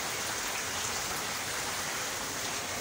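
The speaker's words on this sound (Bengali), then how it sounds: "খুব প্রচন্ড বৃষ্টি।" Heavy, steady rain falls in a dense, continuous hiss with no breaks or voices, filling the whole stretch at an even, close level.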